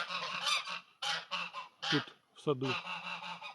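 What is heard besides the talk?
greylag geese honking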